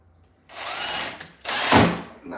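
Power drill driving a screw into wood with two strong bursts: a steady whirring run, a short pause, then a second run that bogs down as the screw seats. The drill is loud and close, with no talk.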